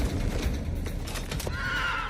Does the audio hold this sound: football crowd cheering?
no